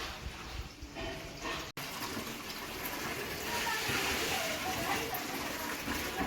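Water rushes and splashes steadily while plants are watered at home, a continuous close wash of sound with faint voices in the background.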